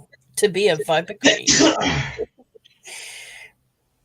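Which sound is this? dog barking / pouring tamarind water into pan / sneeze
sneeze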